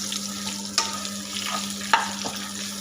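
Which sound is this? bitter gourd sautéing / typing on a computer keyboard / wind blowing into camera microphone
bitter gourd sautéing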